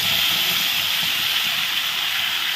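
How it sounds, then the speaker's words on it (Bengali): Tomato paste hits potatoes frying in oil and sets off a loud, steady, close-up sizzle that hisses evenly throughout. "এখন আমি দিয়ে দেবো টমেটো পেস্ট।"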